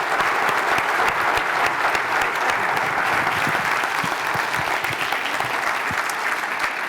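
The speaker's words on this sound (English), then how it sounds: "Let's give them a round of applause." A crowd at a 2016 health policy luncheon applauds: dense, loud, sustained clapping from many hands that fills the whole stretch evenly, with no speech over it.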